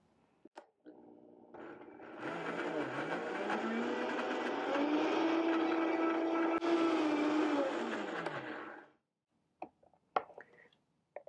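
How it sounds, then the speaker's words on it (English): Blender whirring herbs and salt into a salt scrub, a loud motor whine that climbs in pitch, runs for several seconds and then cuts off, followed by a few clinks. "Put your lid on and blend for just a few seconds,"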